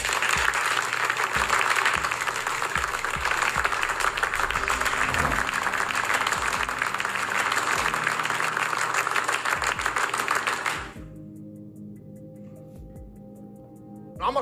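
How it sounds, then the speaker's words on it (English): A seated audience claps in tight unison, loud and dense with the rhythm locked together, then abruptly stops and gives way to a quiet room. "If niggas clap synchronized like that"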